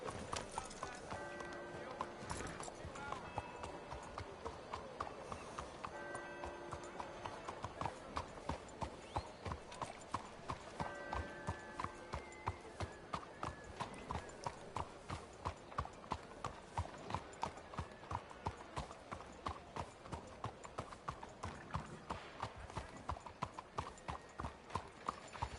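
Horse hooves galloping in Red Dead Redemption 2, a fast steady clip-clop rhythm running the whole time, close and prominent under game music and ambience, with a brief whinny early on.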